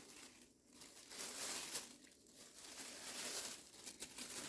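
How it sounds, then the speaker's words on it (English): Continuous soft crinkling of thin plastic as a hand pushes into a bag, rustling steadily at close range and fairly quiet. "Then I'm going to put my hand in this plastic bag"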